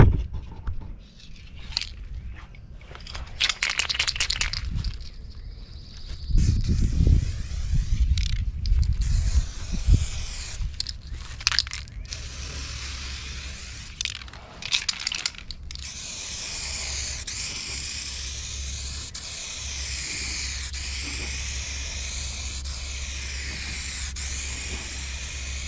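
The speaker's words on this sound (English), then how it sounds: "If you watch as I'm spraying, I'm overlapping a lot, but it's going on fairly wet" A spray gun hisses in intermittent bursts while applying wet, overlapping coats of paint to a car, then settles into a long continuous spray near the end, with faint background noise between passes.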